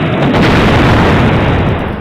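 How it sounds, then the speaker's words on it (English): A loud explosion sound effect, tested while building a game world in a multiplayer server, booms and rumbles continuously for about two seconds with no talking. "It's this one, right? Explosions."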